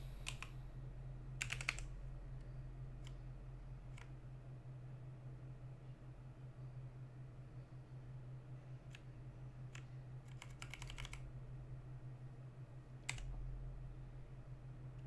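Computer keyboard keys tapped in short scattered bursts and single clicks over a steady low hum, quiet and close, with no voices.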